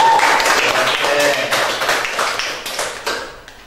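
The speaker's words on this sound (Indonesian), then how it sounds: "Berikan tepuk tangan buat Kayla." Classroom applause for a student named Kayla, with sharp claps from a small group that are loud at first and then thin out into fewer, sparser hits as the clapping fades.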